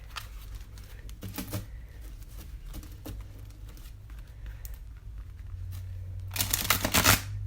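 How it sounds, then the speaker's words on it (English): Tarot cards riffle and shuffle in short papery bursts, a brief flurry early on, quieter handling in between, then a louder riffle near the end. "So I'm gonna shuffle them this way first to see if we can bend them back."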